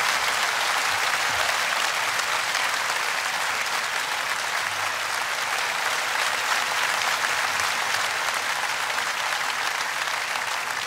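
Sustained applause from a concert audience for an orchestra, dense and steady clapping throughout at an even level with no voices rising above it.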